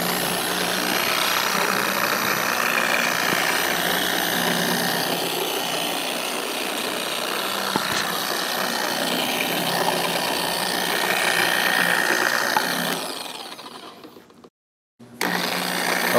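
A machine polisher running at speed 2 spreads product over car paint. It makes a steady, fairly loud motor whir with a high buzzing tone for several seconds, then winds down and briefly cuts out.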